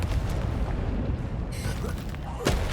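Confringo explosive spell blasts in the Hogwarts Legacy video game land as loud booming bursts over a dense, rumbling game soundscape, with one sharp crack near the end.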